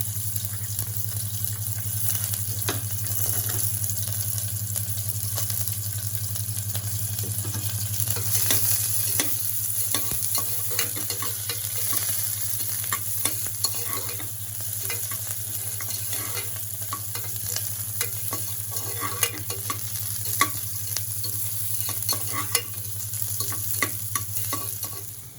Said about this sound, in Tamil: கொஞ்சம் வெங்காயத்தை வதக்கி கோல்டன் ப்ரௌன் ஆகிறதுக்கு எடுத்துக்கலாங்க